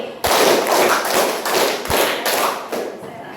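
A class claps together in a counted pattern, several sharp, even group claps separated by short gaps, close and fairly loud in a room.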